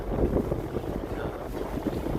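Steady gusting wind and rough, high waves buffet a fishing boat out at sea on a cold January morning, a continuous low rumbling wash with microphone wind noise throughout.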